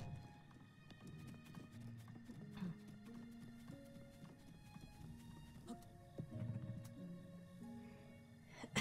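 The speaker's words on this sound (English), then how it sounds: "Come on, horsey." A horse gallops in Zelda: Breath of the Wild, hooves drumming in quick steady beats with a brief whinny, set under a soft game music bed at moderate loudness.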